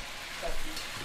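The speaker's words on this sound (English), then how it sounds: "I'm just frying the chicken and the peanut" Chicken and peanuts frying in oil, a steady close sizzle with faint stirring, no voices.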